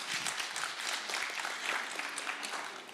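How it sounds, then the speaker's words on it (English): Conference audience clapping fills the hall at an even, sustained level, a dense crackle of many hands for about three seconds with no talk over it. "Please clap for them."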